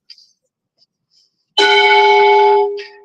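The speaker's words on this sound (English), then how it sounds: "this is the first time we're in front of a governor's mansion with this bell" A large hand-rung bell in front of the Alabama Governor's Mansion sounds a single strong strike that rings with bright sustained tones, then decays over about a second, after a few faint sounds of speech.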